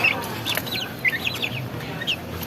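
Heritage chickens cluck and chirp in quick, bright bursts close by, several short calls scattered over a soft background murmur.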